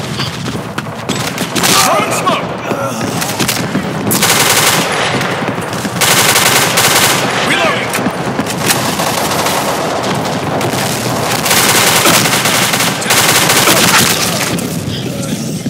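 Rapid bursts of automatic gunfire fill a video game shooter match, loud and sustained with near-constant shooting, while players talk over the action.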